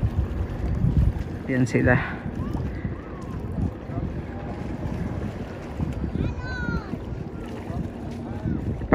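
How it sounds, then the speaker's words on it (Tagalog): Barges and tugboats move along the Pasig River under steady wind and water wash, with a brief engine-like burst early on; a person talks over it. "iba't ibang mga barge, tugboat na dumadaan na papasok sa Pasig River"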